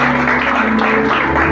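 A church congregation applauds steadily as a loud, dense wash of clapping, with a sustained musical tone underneath throughout.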